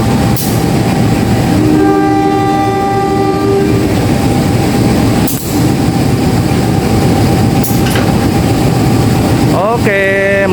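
A CC203 diesel locomotive being shunted and coupled to the Serayu night train carriages, with a loud steady engine drone, tonal horn-like whines, sharp clanks and a rising squeal at the end, voices in the background.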